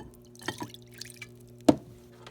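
A fish dumped with its water into a home aquarium tank gives one sharp splash, preceded by a few faint drips and small water sounds at close range.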